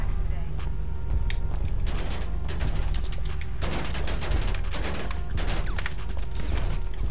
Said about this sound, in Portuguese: Deixa os caras metendo a bala.